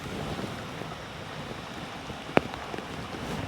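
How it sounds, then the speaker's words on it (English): Steady rain falls outdoors on a farm, a soft continuous wash of patter with one sharp drip-like tick partway through; no voices. "After this rain moves through"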